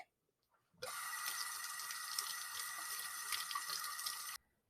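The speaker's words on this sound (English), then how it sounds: "You need to rinse with cold water vigorously." Tap water runs steadily from a faucet for about three and a half seconds, a loud, continuous splashing rinse with no talking, used to cool a thermal burn under cold water.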